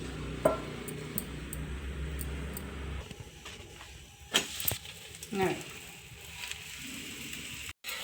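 Oil sizzles on a hot griddle under a masala roti, a steady frying hiss that is loudest at first and then eases. A few soft scrapes and taps follow nearby.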